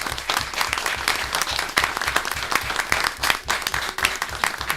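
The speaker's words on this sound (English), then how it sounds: "We're going to give you a round of applause." A school board meeting audience applauds a young student, a full, lively burst of many hands clapping close and loud for several seconds.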